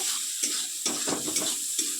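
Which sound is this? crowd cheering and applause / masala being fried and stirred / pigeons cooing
masala being fried and stirred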